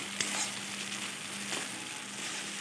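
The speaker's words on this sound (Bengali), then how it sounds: "এবার আবারও একটু ভালোভাবে নেড়ে চেড়ে মশলার সাথে কাজু পেস্টটা একটু কষিয়ে নেব" Cashew paste and spices fry in an oil-filled wok, giving a steady, close hiss with faint crackles and occasional stirring scrapes, no voices over it.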